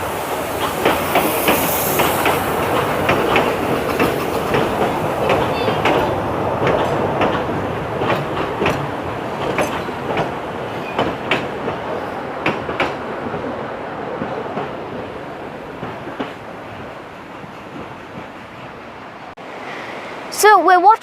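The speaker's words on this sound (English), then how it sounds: "number 3 is coming down the line, which is Sir Hendon." A miniature cabin railway train, number 3, runs down the line with steady clickety-clack and hiss at moderate distance, while people talk over it. A brief whistle-like squeal sounds at the very end.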